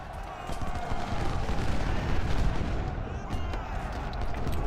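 Cannon artillery fire in the Civil War strategy game Ultimate General: Civil War, a dense, continuous rumble of booming shots layered over one another, loud and unbroken throughout.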